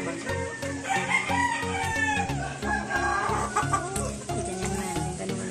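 Several gamefowl hens cluck and crow close by, a busy overlapping chorus of fowl calls that continues throughout.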